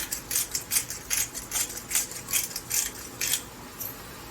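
Black pepper cracked from a grinder over a pan of egg roll bowl filling gives a quick run of crisp, gritty ratcheting bursts, close and fairly quiet, with no voices.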